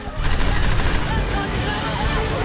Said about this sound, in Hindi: इस जनाजे में आपको गन सैल्यूट की आवाज भी सुनाई देगी।